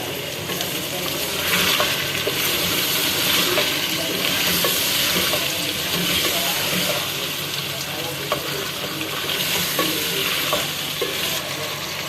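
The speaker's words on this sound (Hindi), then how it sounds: "अब ये सारी अरवियाँ हमने डाल दी हैं इसके अंदर और अब इसको मिक्सअप कर लेंगे अच्छे से।" Taro root (arvi) stirred and frying in a pot, steady close sizzling with repeated scraping spoon strokes and light clinks throughout, fairly loud, no voices.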